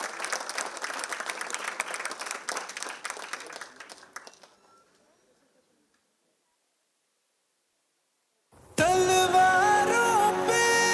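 An audience at a live Republic Day stage show applauds a dance group with dense clapping that fades to silence around four seconds, before loud music abruptly starts.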